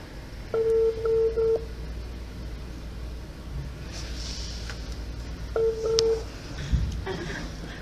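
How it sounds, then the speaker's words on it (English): Two bursts of a telephone ringing tone, each a double ring, separated by a pause, with low background hum and a faint click. "Okay, it's ringing."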